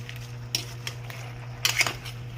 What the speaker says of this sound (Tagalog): halo natin kasi medyo maliit lang yung rice cooker natin ngayon, kaya haluin ito